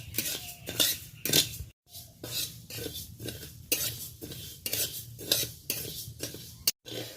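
Rice grains dry-roasting in a pan, stirred with quick rhythmic metal scrapes and rattles roughly every half second, close and clear with brief pauses between strokes.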